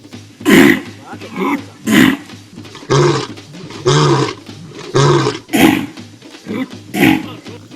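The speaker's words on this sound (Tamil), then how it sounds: "காளை கத்துவதில்லை கர்ஜிக்கும்" A bull roars repeatedly, each deep, rough bellow lasting under a second, about seven calls at steady intervals, loud and close, heard alone.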